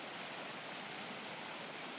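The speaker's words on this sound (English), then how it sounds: "So that's the waterfall." A waterfall being photographed, heard as a dense, constant roar of falling water with no break or change, steady and loud throughout, with no voices.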